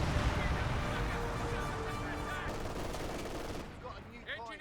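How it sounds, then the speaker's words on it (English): MG42 machine gun fire in the World War II strategy game Company of Heroes 2, long sustained rattling bursts with scattered battle noise that thin out and fade toward the end, with a voice talking over it. "Ranger is now getting hit by the MG42"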